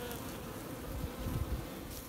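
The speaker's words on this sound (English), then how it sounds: "Two boxes of bees." A steady drone of honey bees flying around two bee boxes outdoors, a dense close buzz with slight swells and no talking.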